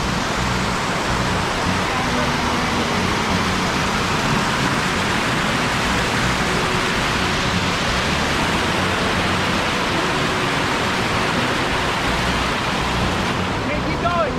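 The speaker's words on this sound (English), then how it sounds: "Look at that waterfall." A waterfall in a canyon along the Escalante River route gives off a steady, loud, unbroken rush of falling water that fills the whole scene, with people talking faintly over it.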